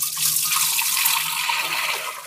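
Hot water gushes and splashes steadily while a cooking pot is washed out in a village kitchen, a close, continuous running-water sound with no voices.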